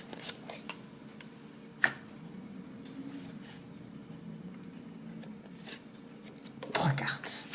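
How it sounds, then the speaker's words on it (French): A deck of oracle cards is shuffled by hand in soft, scattered riffles and flicks, with a sharper snap near the start and a busier burst of card noise at the end, faint low murmuring underneath. "je bats l'oracle de la triade"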